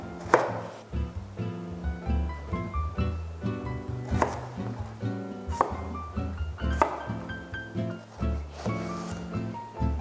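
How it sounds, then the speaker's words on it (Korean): A knife slicing eggplant on a cutting board for a lasagna made in a cast-iron pan, with a series of close, crisp cuts and thunks in an uneven rhythm and a soft tonal hum underneath. "주 재료인 가지를 이 사이즈에 맞게 먼저 자르겠습니다"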